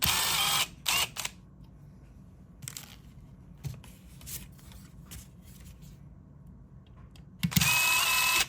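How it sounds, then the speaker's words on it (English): Screws come out of a Ford F-150 dash panel with a power driver, several short whirring bursts separated by pauses and small clicks, close by in a quiet space. "Then there's going to be 2 screws on each side here you want to take out."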